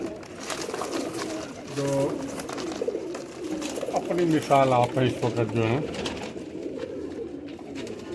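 Rare-breed pigeons coo in a low, repeated throaty burble, with several bursts of cooing mixed among birds at close range while someone talks throughout.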